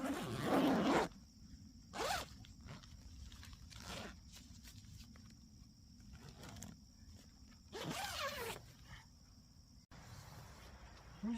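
A zipper closes the outer door of a Naturehike Cloud Up 2 upgraded tent from inside. There are several quick, rasping zips, one long pull at the start and shorter ones later, close by in an otherwise quiet setting.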